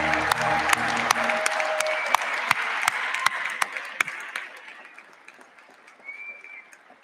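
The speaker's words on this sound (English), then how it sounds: "Everyone, please join me in giving the Stockton University class of 2021 another large round of applause." Audience applause for the graduating Stockton University class of 2021 at a commencement ceremony, a sustained crowd of clapping that gradually thins and fades over several seconds, with scattered sharp individual claps.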